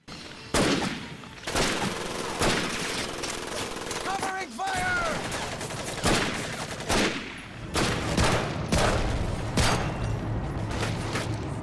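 Rapid bursts of rifle gunfire in the video game Medal of Honor: Pacific Assault crack repeatedly, sharp and loud, with brief gaps between volleys and a faint mechanical click in the middle.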